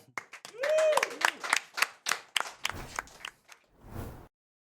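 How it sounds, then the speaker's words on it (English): An audience applauds at the winner's ceremony of the Swiss Dota Cup 5 esports tournament, with scattered bursts of clapping and a few whooping voices rising over them before the applause cuts off abruptly. "big round of applause"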